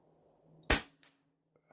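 A single sharp, loud report from a Stoeger XM1 Scout PCP air rifle, a sudden crack that decays fast, with a faint thump soon after.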